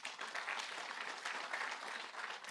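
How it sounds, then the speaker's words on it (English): Conference audience applauding steadily, a dense wash of many hands clapping at moderate distance, fairly quiet and even throughout with a slight swell at the very end. "So I think a round of applause to him once again."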